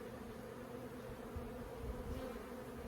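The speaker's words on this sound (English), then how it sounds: "Lots of bees in the colony right now." Honey bees swarm around an open backyard hive with a dense, steady buzzing drone heard up close. A few louder passes rise above the constant hum.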